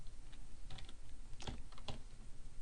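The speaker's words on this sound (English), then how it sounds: "we're typing in some more code" Computer keyboard keys typed in a steady patter of soft clicks, with a few sharper, louder strokes standing out, close and clear with no voices.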